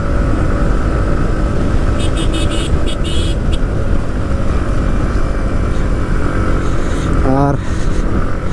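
Motorcycle engine droning steadily and loud as the rider overtakes on a steep hill road in the Rangamati hills, the roar continuous throughout with brief higher whines and a short rising rev near the end.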